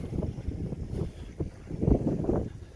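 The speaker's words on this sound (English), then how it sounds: "it's pretty windy out here today" Gusty wind buffets the microphone outdoors in uneven low rushes, rising and falling with no voices.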